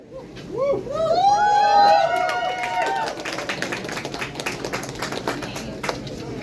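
At an outdoor political rally, crowd applause and scattered clapping swell after a loud whistle and cheering voices, then settle into uneven, thinning claps toward the end.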